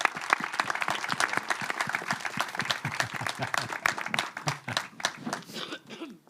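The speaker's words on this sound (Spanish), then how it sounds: "un fuerte aplauso para todas y todos los nominados" Sustained audience applause at a film awards event for best original screenplay nominees, many hands clapping densely and steadily, loud and continuous throughout before thinning slightly near the end.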